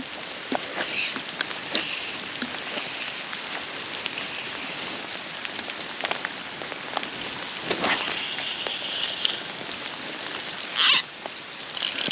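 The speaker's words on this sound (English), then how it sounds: "the rain's persistent, like I'm absolutely soaked" Steady rain patters continuously on the River Eden, a broadband hiss with scattered sharper drops and one brief louder splash near the end; no talking.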